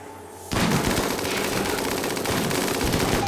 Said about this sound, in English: you can just like chain gun them to death from over here